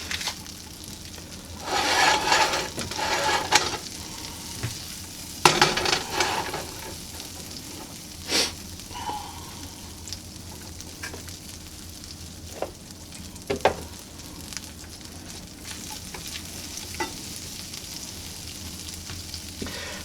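Butter sizzles and crackles steadily in a non-stick pan before a giant pancake goes in, a close, continuous frying hiss with a few louder spits and stirring scrapes along the way.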